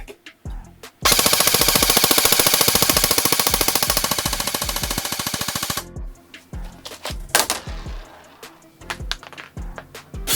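A Grand Power Stribog SP10A3 airsoft gun fires a long rapid burst, emptying its magazine in a loud, steady stream of shots lasting about five seconds, followed by a few scattered clicks and handling knocks.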